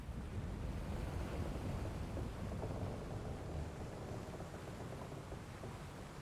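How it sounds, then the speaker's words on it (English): Rain and thunder roar steadily in a storm scene from Final Fantasy XIV, with a dense, continuous rumble and wash that stays loud and slowly eases slightly toward the end. "We're in for a proper storm, it seems."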